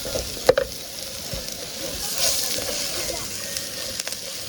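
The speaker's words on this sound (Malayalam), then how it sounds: "നന്നായിട്ടൊന്ന് വഴട്ടാം" Masala sizzles in a pan over an outdoor cooking fire while being stirred, a continuous frying hiss broken by a sharp clank of the spoon early on and scraping strokes throughout.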